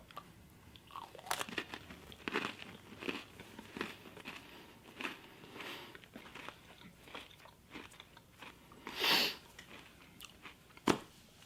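Close crunching and chewing on a milk-soaked meat-flavoured Oreo, irregular soft bites and wet mastication with a few louder crunches, no talk.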